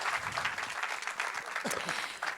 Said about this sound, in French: applaudissements pour Pascal